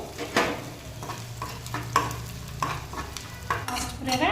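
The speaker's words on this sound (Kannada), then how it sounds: "100 ಗ್ರಾಮ್ ಎಲ್ಲ ಹುರ್ಕೊತಾ ಇದ್ದೀವಿ ನಾವು" Edible gum and other ingredients are dry-roasted in a pan, heard as a series of close scraping strokes and rattling stirs at irregular intervals over a faint sizzle and low hum.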